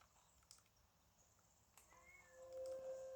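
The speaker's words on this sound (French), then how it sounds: "faites pas gaffe si vous entendez mon chat miauler" A faint, short meow rises near the end against quiet background noise, preceded by a couple of soft knocks.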